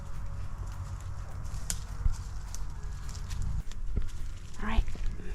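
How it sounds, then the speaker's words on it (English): A herd of goats, adults and kids, walking around a campsite on a working farm, hooves tapping and shuffling nearby with a brief bleat, under people talking. "the herd of goats are coming to visit us"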